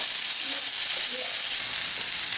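Pieces of pork browning in a hot pan give off a steady, dense sizzle with crackling that holds even and fairly loud throughout, close up and with no voices.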